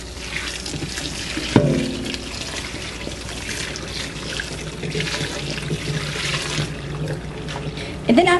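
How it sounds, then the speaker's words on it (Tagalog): Hot boiled water poured over malunggay leaves to blanch them, a steady splashing pour with trickling that runs continuously after a sharp clunk, with a faint clatter at the end. "ibablanch natin ito with the hot water na pinakulo natin"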